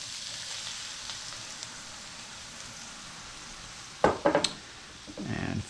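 Cream poured into a hot pan on lowered heat, with a steady quiet sizzle followed near the end by a few clinking utensil taps and a brief louder hiss.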